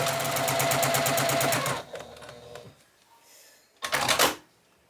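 A sewing machine quilting through a quilt sandwich for a block, running in a fast close rhythmic stitching burst, pausing briefly, then stitching again in a short run.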